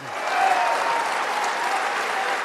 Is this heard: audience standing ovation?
yes